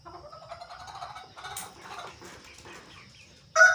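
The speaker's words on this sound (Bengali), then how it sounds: "এই যে চারটা মুরগি তিনটা মুরগি একটা মোরগ" Three caged desi hens and a rooster cluck in low, pulsing murmurs, close and fairly quiet, ending in a short, louder burst like flapping wings.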